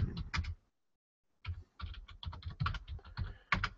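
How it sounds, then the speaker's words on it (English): Rapid typing on a computer keyboard, close and distinct, with bursts of key clicks separated by a short pause, then a steady run of keystrokes. "when you hear typing, you're gonna hear typing"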